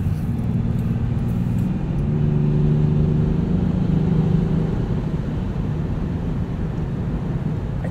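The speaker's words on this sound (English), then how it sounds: "I do like the way this inline six sounds" A 2020 Land Rover Defender 110 SE's inline-six engine hums steadily from inside the cabin while driving, a continuous low drone with a slight swell in pitch and level midway before settling back.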